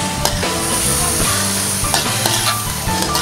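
Spicy pancit canton noodles with soy sauce and black pepper being tossed in a hot pan, a loud constant sizzle with repeated scraping stirs and clanks throughout, no voices.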